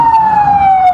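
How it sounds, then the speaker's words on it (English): A 2004 Dodge Rural Brush Truck fire engine sounds its siren at a rodeo parade, a loud, close, steady wail that slowly drifts lower in pitch, heard alone. "right behind that is the fire truck, 834. It's a 2004 Dodge Rural Brush Truck."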